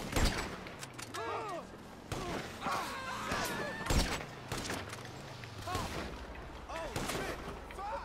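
Heavy sniper rifle fired in a GTA game, several booming shots with echoing tails spread across the span, mixed with voices talking and other game noise.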